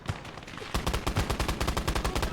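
Rapid automatic gunfire from a machine gun in a modded Conquest-mode war video game, starting quieter then bursting into a loud, steady stream of closely spaced shots for nearly two seconds, with no talking.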